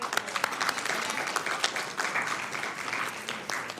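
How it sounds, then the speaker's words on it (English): A council chamber audience gives a sustained round of applause, dense steady clapping at moderate distance with a few faint voices mixed in. "big round of applause to Beth"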